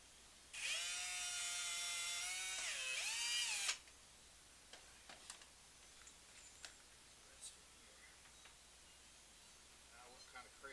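A power drill whines loudly for about three seconds while boring pocket holes in a board for a canning room shelving unit, then stops, followed by quiet handling clicks and taps.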